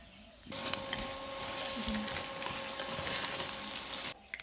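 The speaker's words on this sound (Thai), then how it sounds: "หลังจากที่เราใส่ผงครบทุกซองแล้วนะคะเดี๋ยวเราจะมาคลุกเขาให้เข้ากันนะคะ" Instant noodles are tossed and mixed with several seasoning powders in a bowl, making a steady rustling, sizzle-like noise for about four seconds with a faint electrical hum beneath. The sound is close and continuous, and no voice is heard.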